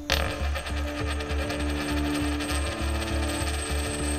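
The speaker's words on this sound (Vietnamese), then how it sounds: "Lại là tiếng đồng xu rớt." A coin drops and rolls on a hard floor inside a quiet house at night, a sharp clink followed by a steady, rhythmic rolling rattle that carries on alone under a low hum.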